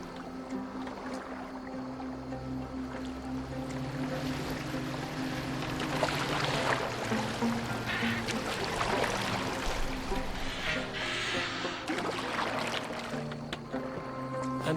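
Viking longboat rowed across open water in Assassin's Creed Valhalla, a steady wash of water and hull noise with low droning tones beneath, continuous and moderately loud throughout with no voices.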